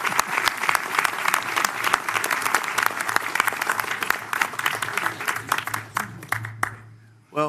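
An audience claps at the inaugural meeting of a metropolitan public transit authority after a unanimous vote. Steady, fairly close applause carries on for several seconds, thins toward the end, and a brief low voice cuts in at the close.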